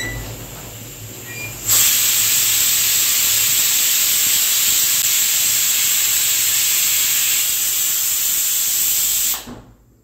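A pressure cooker cooking rajma on the stove lets out one long, loud, steady whistling hiss of escaping steam for about eight seconds, then cuts off abruptly into quiet.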